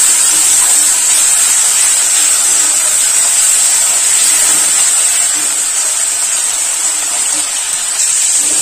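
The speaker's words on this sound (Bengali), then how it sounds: "পরিমাণ মতো হলুদ গুঁড়ো, অল্প জল দিয়ে মশলাটা ভালোভাবে কষাই করে নেব।" A turmeric spice paste with a little water hisses and sizzles steadily in a hot pan, loud and continuous throughout.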